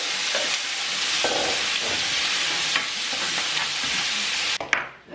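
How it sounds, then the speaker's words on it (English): Lettuce, tomato and avocado cook in a hot pan under a loud, continuous sizzle, with a few soft stirring knocks and a brief clatter near the end. "I'm gonna throw this in the pan and saute it for 3 minutes"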